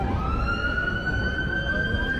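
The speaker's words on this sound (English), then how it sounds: "Oh, it's a fire engine." A fire engine siren wails steadily in the open air at a rock music festival, loud and continuous over a rumbling background of outdoor crowd and traffic noise.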